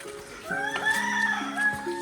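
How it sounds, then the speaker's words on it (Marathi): At night in a Konkan village, roosters crow in drawn-out, overlapping calls, fairly close and loud, one voice rising over another with nothing else heard. "कोंबड्यांचा आवाज"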